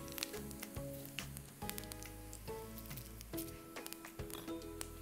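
Fenugreek seeds sizzle in hot oil in a pan for a Kanyakumari-style fish thokku, a steady close crackle with scattered sharper pops and spits throughout.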